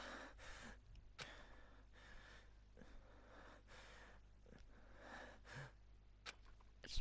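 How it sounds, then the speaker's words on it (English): A character in the Danganronpa video game pants in a string of quiet, breathy gasps that come in an uneven rhythm with short pauses, close and alone. "It's panting in my ear."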